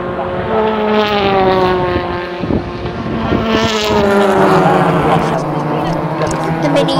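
BTCC touring cars racing past at Thruxton, a loud, sustained engine roar with shifting pitch as the cars go by, with a voice talking over the noise.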